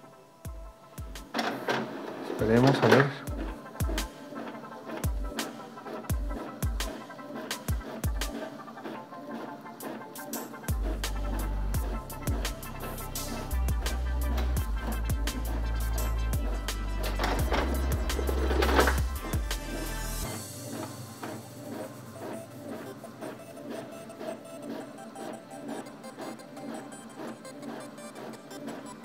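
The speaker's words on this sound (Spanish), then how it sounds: "la impresora ya agarró la orden" An Epson L3560 inkjet printer runs off two copies: repeated mechanical clicks and shuttling bursts, then a steady loud whirring feed at mid-clip that stops abruptly, followed by quieter mechanism hum. A voice speaks briefly.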